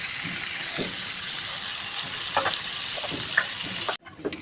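Potatoes sizzle loudly in hot oil in a pan for duck curry, a dense continuous hiss with a few scraping stirs, then the sound drops away abruptly near the end.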